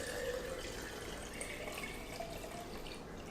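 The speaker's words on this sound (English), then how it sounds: "we fill up our container" Water poured into a mason jar container for Kratky hydroponic seedlings, a faint continuous trickling and gurgling fill with no talk, heard quietly throughout.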